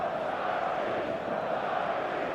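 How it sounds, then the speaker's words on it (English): Steady, dense stadium crowd roar from an eFootball 2026 match, a continuous wash of massed voices filling the space without breaks. "The stadium is full of noise and energy."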